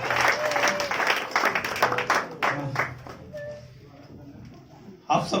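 A bursts of audience clapping at an anniversary gathering, strong at first and then thinning into scattered claps with a few murmurs, before a short sharp flurry near the end.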